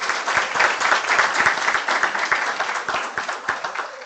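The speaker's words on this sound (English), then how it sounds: "Please give him a huge round of applause." A seminar audience claps for Dr. Khan, a fairly close round of applause with individual hand claps audible in a slightly uneven, pulsing rhythm.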